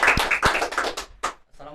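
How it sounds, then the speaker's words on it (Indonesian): A podcast audience gives a few short, sharp bursts of hand clapping to welcome a guest. The claps come in uneven rhythm and fade out, followed by a brief moment of voices. "Tepuk tangan dong untuk Bapak Firmansyah."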